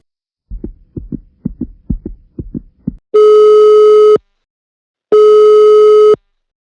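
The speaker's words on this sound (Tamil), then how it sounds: "இவ்வளோ நேரமாக நான் அகிலுக்கு ஃபோன் பண்ணிட்டு இருக்கேன் ஃபோனே பிக் பண்ண மாட்டேங்கிறான்" An unanswered phone call: a quick run of soft pulsing taps, then two long loud steady electronic ring tones separated by a gap of silence.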